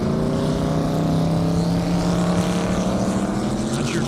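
A Corvette C7 race car speeding down a half-mile airstrip at a 200+ mph event, its engine a loud, steady, sustained roar with a smooth droning pitch throughout.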